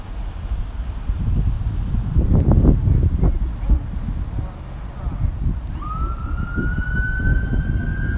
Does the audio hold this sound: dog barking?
no